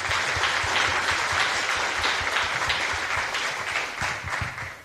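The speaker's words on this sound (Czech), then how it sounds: "Takže prosím potlesk." Audience applause at the national final of the Creative Business Cup 2020, a steady loud wash of many hands clapping for about five seconds, fading slightly at the end.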